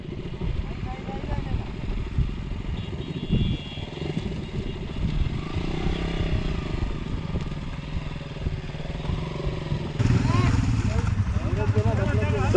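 A heavy motorcycle struggling for grip on snowy, muddy slush at Chang La pass in Ladakh, its engine droning and revving unevenly with clattering, then a louder surge near the end, with someone talking over it.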